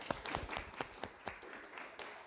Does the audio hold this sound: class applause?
yes